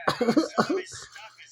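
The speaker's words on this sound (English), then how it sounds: "Cough for me?" A person coughs several times in a quick, rough burst, close up, with no talking.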